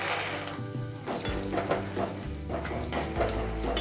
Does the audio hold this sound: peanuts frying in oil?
yes